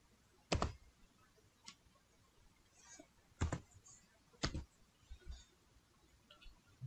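A computer mouse and keyboard used on a Windows PC give sparse, faint clicks and taps, a few sharper isolated clicks spaced over several seconds against a quiet background, with no speech.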